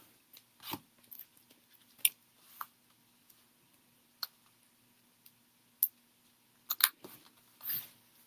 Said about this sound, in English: I'm going to cut just a little piece for the tail